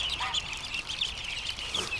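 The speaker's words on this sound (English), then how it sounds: "These ducks are so relaxed around me." Ducks in a yard giving soft scattered quacks and honks, fairly faint and close over a low background rumble, with no talking.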